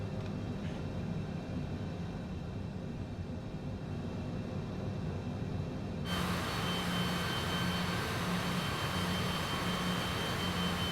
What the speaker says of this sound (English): Why did the engine sound like a weed whacker?